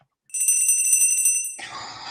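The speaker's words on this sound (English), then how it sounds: "every time a bell rings, an angel gets their wings" A small bell on a Christmas tree rings in a bright, clear, sustained jingle that starts abruptly, rings steadily for over a second, then gives way to softer, lower clattering.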